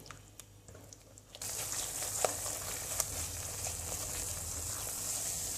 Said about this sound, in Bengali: এবার আমি নেড়ে চেড়ে চুলার আস্তা মিডিয়ামতে রেখে হালুয়াটা তৈরি করে নিই